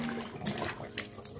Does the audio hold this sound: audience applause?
no